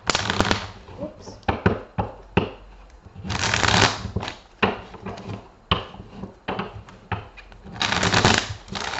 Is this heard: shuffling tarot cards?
yes